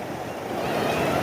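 A swollen village stream in flood at Rajiya rushes and roars in a steady, loud broadband wash of churning water. It runs close and continuous throughout, with wind buffeting the microphone and no talking.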